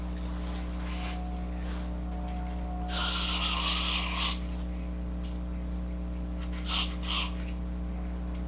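A short burst of hiss from an aerosol hair spray, about a second long, sprayed on a lace wig, followed later by a briefer second puff, over a steady low hum.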